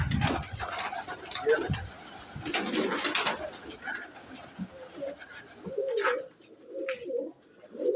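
Teddy pigeons in a netted loft coo with soft, throaty rolling calls amid wing flutters and rustling, while someone talks nearby over the birds.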